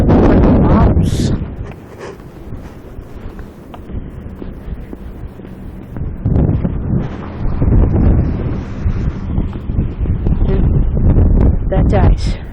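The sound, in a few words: wind blowing on a windy walk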